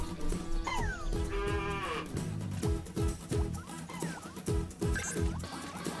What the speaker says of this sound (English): Oh, you got a little baby. Little baby cow.